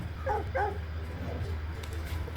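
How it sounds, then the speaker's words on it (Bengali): A dog in a GTA-style open-world video game gives two quick barks near the start, then a low steady background hum with a faint voice underneath. "এটা কি কুত্তা"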